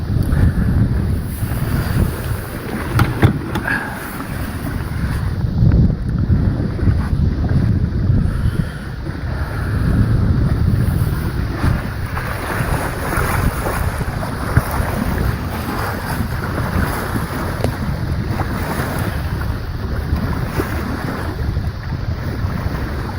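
A sailboat sails on autopilot on Christmas Eve, with steady wind rushing across the microphone over the wash of waves against the hull, a continuous loud roar with no one speaking.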